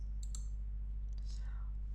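A few soft, quick clicks from keys pressed on a CASIO Graph 35+E II or Graph 90+E graphing calculator, faint and close over a steady low hum.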